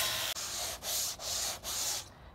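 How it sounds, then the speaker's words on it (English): An AZEK board has its edges sanded in three long, steady rubbing strokes, close and loud, each separated by a brief pause, with no talking. "Now he is sanding down all the edges of the AZEK board to make it smooth."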